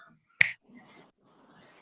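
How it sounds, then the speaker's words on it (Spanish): A single sharp finger snap, close and crisp, standing alone in an otherwise quiet room with only faint background murmur. "el sol va a sonar con el chasquido de los dedos"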